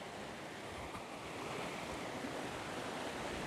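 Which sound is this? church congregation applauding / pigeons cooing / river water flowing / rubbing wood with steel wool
river water flowing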